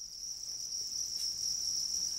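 Crickets farmed indoors in bulk as feed for pet reptiles, fish and birds, giving a steady, continuous high-pitched chirring trill that holds at an even level throughout, with no voices.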